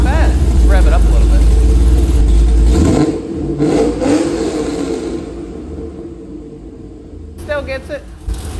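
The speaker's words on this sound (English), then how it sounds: "Let's rev it up a little" A cammed Corvette with new mufflers idles with a heavy, loud, lumpy rumble, then a short rev rises and settles into a lower idle while people talk over it.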